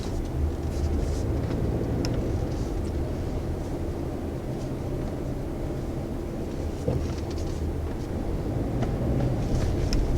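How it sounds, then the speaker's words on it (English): A 2019 Subaru Crosstrek engine accelerating while driving gives a steady, muted low drone with road and cabin rumble, continuous and fairly even throughout, without any sharp revving. "it also doesn't make a lot of noise when you get more into the throttle application"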